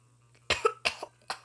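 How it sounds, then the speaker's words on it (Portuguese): A man coughs several times in quick succession, close by and sharp, with short gaps between the bursts and a low steady hum underneath. "Desculpa, pessoal, que eu tô com a tosse aqui."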